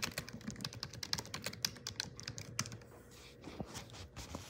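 A computer keyboard is typed on blind, with rapid, close clicking keystrokes in uneven bursts and a short pause near the end before a few more taps.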